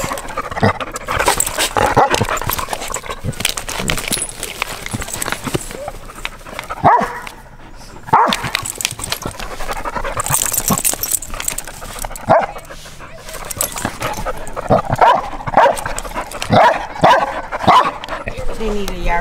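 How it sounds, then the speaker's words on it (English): A dog at an RV campsite in Cayuga Lake State Park barks repeatedly and loudly nearby, with yips and whimpers between the barks, continuing through the whole stretch. "Monty, you are the noisy dog"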